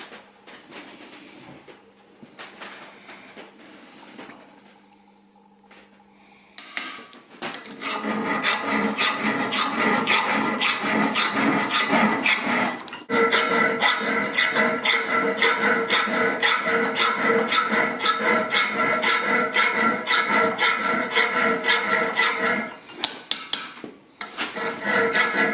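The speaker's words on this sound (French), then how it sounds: "je suis en train de retirer les traces de soudure" Filing away excess weld from a hunting rifle part, a steady rasping scrape in long back-and-forth strokes, close and fairly loud, running nearly continuously after a quieter start, with no talking.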